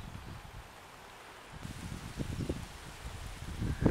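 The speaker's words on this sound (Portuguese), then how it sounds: "Ventando bastante" Strong wind blowing over a mountainside near a small house in Guaranésia, a steady broadband rush with rumbling gusts and microphone buffeting that grows louder toward the end.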